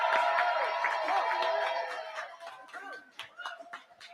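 A poetry slam audience cheers and applauds a finalist at a season finale, a loud crowd swell that fades after about two seconds into scattered claps and voices.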